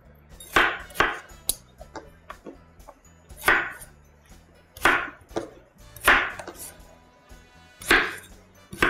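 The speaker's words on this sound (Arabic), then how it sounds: "مسكنا السكينه وهنقطع" A knife chops tomatoes and vegetables on a board in a run of sharp, close thuds, some in quick pairs, spaced by short pauses, with no talking.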